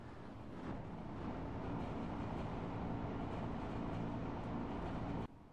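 A diesel railcar in Diesel Railcar Simulator rumbles along the track, a steady low drone with faint clickety-clack running for about five seconds before it cuts off abruptly.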